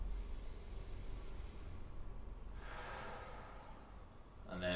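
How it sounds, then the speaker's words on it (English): A deep breath drawn in through the nose during a guided belly-breathing exercise: one soft, airy inhale rising out of quiet room tone midway, followed by a faint start of the next breath sound. "You're going to take a deep breath in through the nose"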